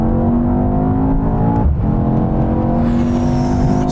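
A BMW M5 CS, Mercedes-AMG E63 S, Porsche Panamera Turbo S and Audi RS6 accelerate together in a rolling drag race with gearboxes locked in third. Loud, sustained engine roar climbs steadily in pitch, with a brief dip partway through.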